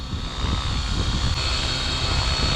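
Align T-Rex 550X RC helicopter hovering on a test flight, a loud continuous whine and rotor buzz with rumbling low-end wind buffeting, steady throughout with no talk.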